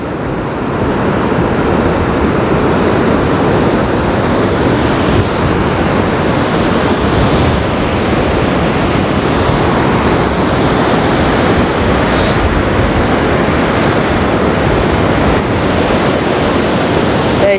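Rough surf pounds the shore at Guarujá, Brazil, a loud, dense roar of breaking waves with constant wind buffeting the microphone for the whole stretch.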